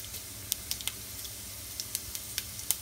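Cumin seeds dropped into hot oil crackle in a faint continuous sizzle, broken by sharp little pops and spits scattered throughout.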